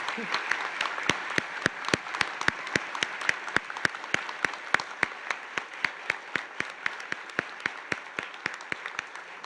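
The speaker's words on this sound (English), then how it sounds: "Let's give these amazing students a round of applause" Steady rhythmic clapping at a college honors ceremony for students, evenly spaced sharp claps in unison over a soft crowd wash, moderately quiet and continuing for several seconds.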